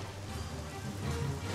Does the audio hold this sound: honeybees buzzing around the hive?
no